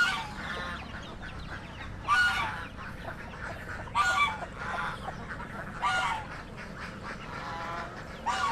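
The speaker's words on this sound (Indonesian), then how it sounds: "Ini ada cukup banyak ya, jadi termasuk juga ada entok yang sedang mengeram." Muscovy ducks in a village pen, some of them brooding, give loud hoarse honking calls in repeated bursts every couple of seconds, close by, over a steady background murmur of other birds.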